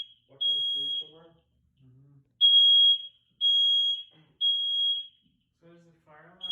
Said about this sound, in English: So does the fire alarm go off on all the units?